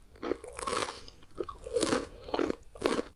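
Popcorn being chewed close to the mic, with several crisp crunching bites in an uneven rhythm, each burst loud and short with quiet gaps between.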